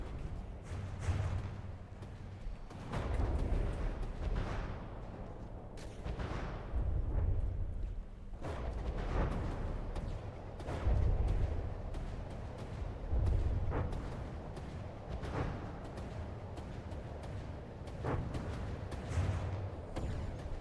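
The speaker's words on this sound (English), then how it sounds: "The beauty of high explosive guns." Repeated heavy booms of high explosive guns firing in the naval combat game From the Depths, a steady barrage of deep blasts and bursts at irregular intervals with no voices.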